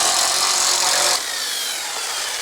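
Power tool running on bolts during the dismantling of a car at an auto salvage yard: a loud, steady whirring buzz for about a second, then cutting off to a quieter background hiss.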